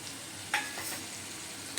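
Minced chicken fries in a spice paste in a pan, a constant sizzle broken by two sharp stirring scrapes of a spoon.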